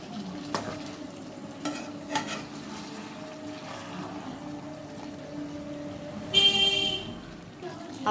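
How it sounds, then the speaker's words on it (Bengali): A spoon stirring chicken with sour yogurt in a frying pan, soft scraping strokes over a low sizzle, with one brief louder clatter near the end. "টক দইটা দিয়ে আবার ভালো করে নেড়ে নিতে হবে।"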